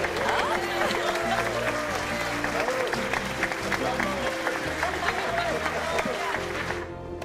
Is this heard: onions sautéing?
no